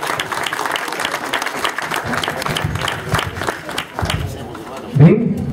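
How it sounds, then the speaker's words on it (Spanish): Crowd applause for a president at a community event in Santa Cruz de Cocachacra, with brisk, loud clapping that blends with voices and chatter, thinning near the end as a louder thump cuts in. "Un aplauso, un banco fuerte al presidente."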